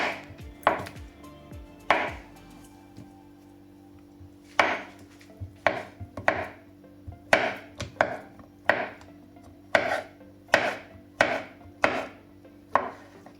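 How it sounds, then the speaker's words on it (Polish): A knife chopping butter on a board for apple cake dough, with a long series of evenly spaced, crisp strikes that come faster and steadier as it goes on, with no talk. "Następnie siekamy masło."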